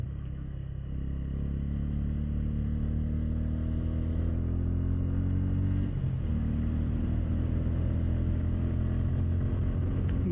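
A motorcycle climbs the Kelghar ghat road linking Satara and Mahabaleshwar, its engine a steady close drone whose pitch rises, drops briefly around a gear change, then climbs again, with no speech.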